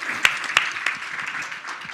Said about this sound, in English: you can clap, please